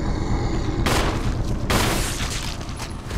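Gunfire in the Resident Evil video game landing a headshot: two loud, sharp broadband blasts about a second apart, each with a ringing decay over a steady game background, no talk.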